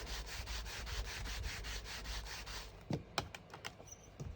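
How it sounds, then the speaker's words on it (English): Sandpaper or an emery board rubbed briskly over a rubber stamp, a steady rhythmic scratching of repeated close strokes for about three seconds, then a few separate light taps and scrapes. "So you just give them a little rub over with a little bit of sandpaper"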